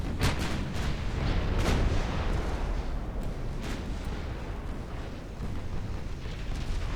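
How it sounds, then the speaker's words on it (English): Naval gunfire and torpedo hits in Ultimate Admiral: Dreadnoughts, heard as a steady roll of muffled booms and sharp bursts over a rumbling battle background, moderately distant. "Oh yeah, now we're just lighting guys up. Beautiful. There's a fire and a torpedo hit right in the front."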